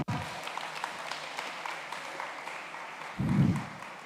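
An audience claps and cheers for three women and three men called onto the stage at a university welcome-week community service conference, steady mid-distance applause with a louder burst of cheering near the end.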